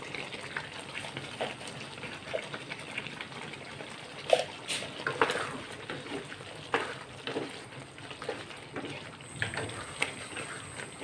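Chicken and spices frying in a pan for an aloo chicken curry, a steady close sizzle broken by crackles, pops and occasional stirring scrapes, with no talking.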